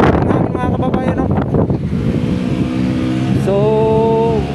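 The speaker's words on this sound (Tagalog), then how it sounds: "malakas pa rin yung hangin mga kababayan" Strong gusty wind after Typhoon Uwan buffets the microphone loudly, with a passing vehicle and rumbling noise mixed in and someone talking over it.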